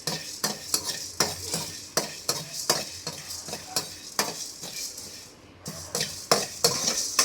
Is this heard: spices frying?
yes